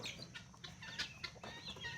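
Chickens on a farm cluck and chirp in quick, overlapping bursts, a busy flock heard fairly close with a constant low background murmur.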